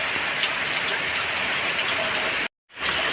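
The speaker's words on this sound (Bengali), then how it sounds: "বৃষ্টি দেখে মনে হচ্ছে বৃষ্টিতে গোসল করি একটু" Steady, dense rain pours down continuously, a broad hiss of drops hitting surfaces, with a brief dropout near the end before the downpour resumes.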